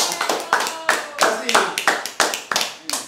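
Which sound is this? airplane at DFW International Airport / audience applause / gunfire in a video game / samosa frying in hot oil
audience applause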